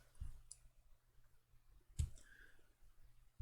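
A computer mouse gives a few soft, isolated clicks at close range, spaced about two seconds apart in near silence, with no talk.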